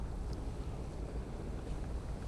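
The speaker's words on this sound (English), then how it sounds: "it is incredibly windy" Strong wind buffets the microphone with a constant low roar and rumble, loud and unbroken, at a canal breach beside a culvert.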